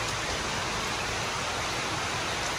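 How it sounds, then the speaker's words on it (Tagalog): Heavy rain falls steadily and loudly, a dense, continuous wash of noise with no talking. "Lakas sa ulan."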